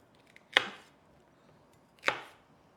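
A knife cuts through celery sticks on a cutting board in two separate crisp chops, close up, with quiet gaps between them.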